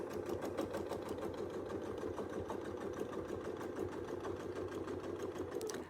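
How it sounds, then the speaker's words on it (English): A sewing machine stitches fabric along a quilting ruler template, a steady rapid mechanical whir with a fast even needle rhythm, close and unbroken for several seconds. "So let's go ahead and we'll just stitch this and we'll stitch down."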